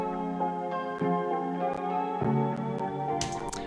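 A melody played through the first preset of the Mishby plugin, coated in heavy noise and distortion, with bright, sustained harmonic tones, sharp clicks and crackle, and a hissy noise burst near the end.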